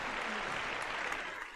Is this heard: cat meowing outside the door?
no